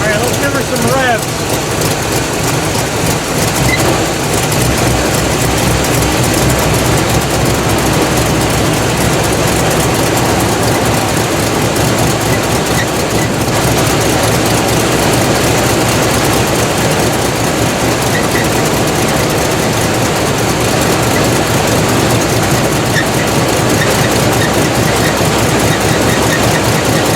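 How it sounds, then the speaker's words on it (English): A Buick car engine roars loud and close, revving in a dense, continuous rumble that barely lets up for the whole stretch. "let's give her some revs."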